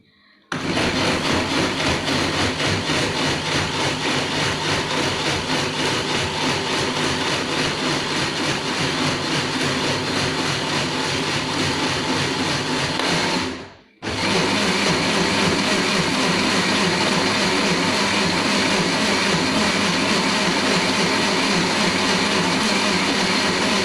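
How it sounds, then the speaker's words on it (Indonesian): A blender runs loud and steady, blending soursop fruit with a little water, with a brief cut near the middle before the whirring resumes. "kemudian kita masukkan ke dalam blender dan kita tambahkan sedikit air agar bisa di"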